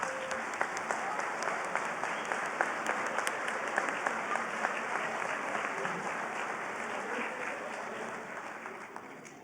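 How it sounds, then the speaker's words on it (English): Sustained applause from a graduation convocation audience honoring standing graduating students, steady and dense for several seconds with scattered sharper claps over a broad crowd wash. "Let's give them a round of applause."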